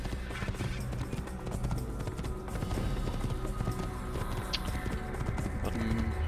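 A horse gallops in the Assassin's Creed video game, its rapid, dense hoofbeats blending into a continuous thudding rumble over a busy game soundscape.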